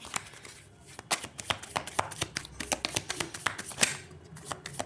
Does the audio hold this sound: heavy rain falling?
no